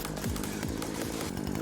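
A chainsaw runs continuously and loudly, its buzzing engine pitch dipping and rising as it cuts through cabbage for soup, a harsh dense roar with no voices over it.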